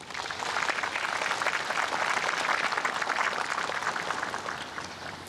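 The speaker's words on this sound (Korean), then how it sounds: "이 자리에 함께하신 이현원님께 따뜻한 박수를 부탁드립니다." Audience applause at a Korean Memorial Day ceremony attended by the president, with a steady, dense wash of clapping from a crowd that holds evenly throughout.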